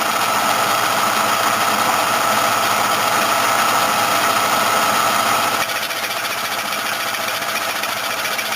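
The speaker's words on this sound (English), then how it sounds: "just going to turn the machine on, throw the feed lever, and what's happening here is the bar itself is actually moving down into the cylinder" Cylinder boring machine running with its boring bar feeding down into an engine cylinder during sleeve work; a steady, loud mechanical drone and whir with a slight drop in level partway through, no talking.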